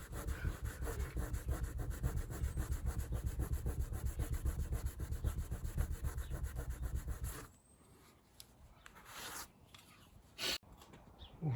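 Rapid rhythmic rubbing scrubs leftover vinyl-sticker glue off car bodywork, a close, steady back-and-forth scraping lasting about seven seconds, then stopping, leaving faint handling noises and a couple of brief knocks.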